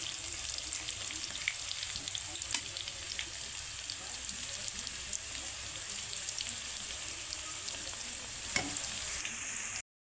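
Potatoes frying in hot oil in a pan for a home-style chicken curry, a steady soft sizzle and crackle running the whole way with occasional sharper pops, fairly close, no talking.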